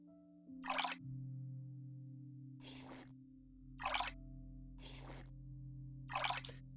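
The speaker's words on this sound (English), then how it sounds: "Pour yourself a glass of the green fairy." Absinthe poured into a glass in the Cube Escape puzzle game, heard as several short, bright splashing bursts spaced about a second apart over a steady low game hum.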